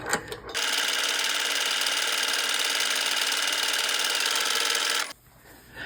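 A sewing machine stitching ribbon trim onto a doll dress, a fast, even mechanical whirr that runs steadily for about four and a half seconds before stopping abruptly.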